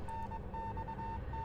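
A clear electronic tone beeps in an uneven dot-and-dash pattern, like Morse code, above a dark rumbling ambience in the Nintendo Switch horror visual novel Death Mark.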